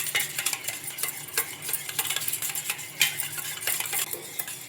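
Milk is mixed into rumali paratha batter in a bowl: continuous scraping and clinking strokes in a quick, uneven rhythm, close and moderately loud, with no talking.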